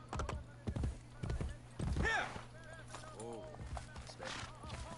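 Horse hooves clip-clop in the Assassin's Creed Brotherhood video game, a run of sharp uneven hoofbeats up front with neighs and whinnies in between, beneath occasional talk.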